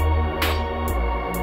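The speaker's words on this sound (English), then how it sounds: "embellish it with little fun vocal chops like this." Short chopped vocal snippets pop out rhythmically over a sustained electronic loop with a steady bass, bright bursts recurring about every half second.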